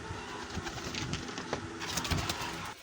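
Pet pigeons cooing in a loft, soft repeated low coos from several birds close by over a steady background hum, no talk.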